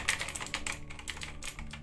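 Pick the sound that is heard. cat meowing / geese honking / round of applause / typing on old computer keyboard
typing on old computer keyboard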